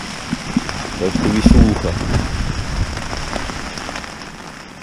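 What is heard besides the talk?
heavy rain falling on a tent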